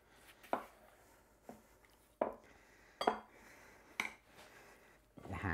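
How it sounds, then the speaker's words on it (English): Flour dough being mixed in a bowl with a spatula, heard as a few scattered scrapes and knocks against the bowl at low level, with quiet pauses between them and no talk. "Now we just need to mix it up. Use our spatula first."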